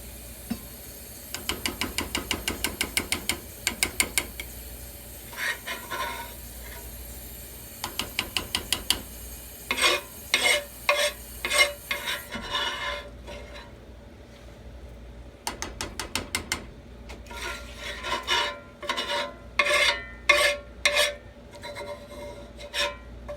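A spoon or spatula scrapes and stirs onions in a hot cast iron skillet while Louisiana gumbo is cooked, making repeated rhythmic scraping strokes in uneven bursts, close up with no talking.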